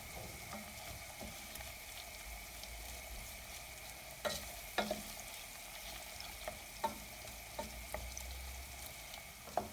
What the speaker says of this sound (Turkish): Şimdi çok az bir salçayla da kavuracağım.